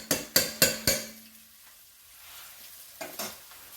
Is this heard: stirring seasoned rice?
yes